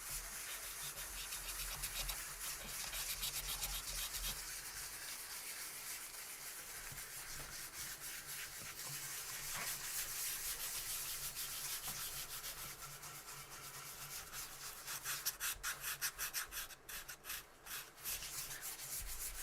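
Sandpaper rubs inside a guitar body cavity. The scratchy strokes run continuously at close range and grow quicker and more uneven toward the end.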